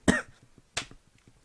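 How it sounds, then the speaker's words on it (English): Two sharp, close coughs about half a second apart from a single person, loud and dry, followed by faint low background noise. "this cough keeps popping up, man"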